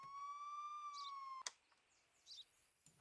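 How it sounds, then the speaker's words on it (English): A police car siren in the video game Contraband Police holds a steady tone for about a second and a half, then cuts off abruptly with a click, leaving faint chirps and background noise. "the siren is the only way that I can drive this thing and not hit everybody on the road"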